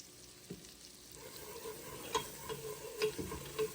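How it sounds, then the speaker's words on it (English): Flour cooking in about three tablespoons of melted butter in a large pot for a baked mac and cheese roux: a soft steady sizzle with a few light scrapes and clicks of stirring, close and fairly quiet, no talking. "once the butter has melted, I'm going to add my flour, starting with 2 tablespoons"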